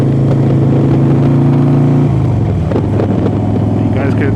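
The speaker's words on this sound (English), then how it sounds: "You guys can enjoy the sound of this bike. 2016 Harley Davidson Softail Slim S." A 2016 Harley-Davidson Softail Slim S rumbles along on a scenic fall ride, its deep, steady engine drone loud and close before the pitch drops and shifts about halfway through.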